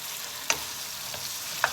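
Food sizzles quietly in a pan while a utensil stirs and scrapes, with a few brief clinks against the metal.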